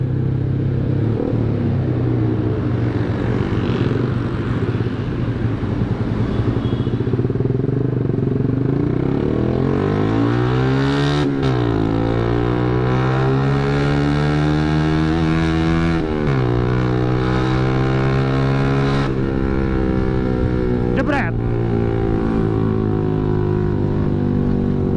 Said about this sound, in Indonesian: ini motor gue pelan banget bangsat